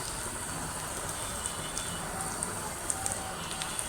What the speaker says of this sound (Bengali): শুটকিগুলো দিয়ে আবার একটু বাজিয়ে নিতেছি